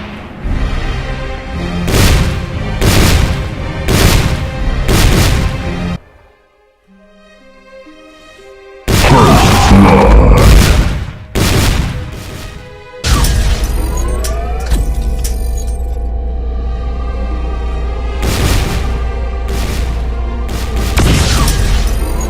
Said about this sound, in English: A barrage of heavy railgun shots.